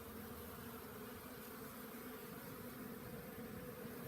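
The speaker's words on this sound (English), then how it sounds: "Just wanted to show you the bees." Honey bees hum steadily at a hillside hive during September honey extraction, a close, constant, even buzzing drone with no talking.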